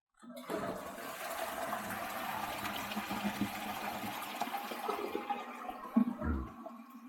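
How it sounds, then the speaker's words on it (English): A toilet flushes with a loud rushing gush of water that drains steadily for several seconds, then tapers off into a gurgle. The flush is close and heard alone. "Let's flush it again."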